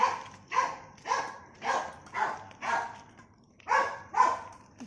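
A dog barks repeatedly in a steady rhythm, about eight loud, close barks in a row with short gaps between them.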